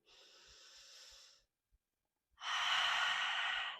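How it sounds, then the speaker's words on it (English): Deep, controlled yoga breathing held in chair pose during a standing vinyasa flow: a long airy inhale, a brief pause, then a louder, fuller breath, close and alone. "Nice deep breath in."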